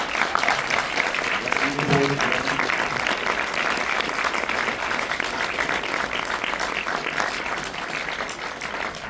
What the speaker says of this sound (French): Je vous demande de les applaudir tout de suite, monsieur Thierry de Mézières et monsieur Alban Sorel.